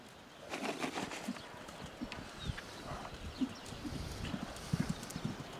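A horse trotting outdoors, its hooves clip-clopping in a steady, fairly close rhythm, with a few faint background bird calls.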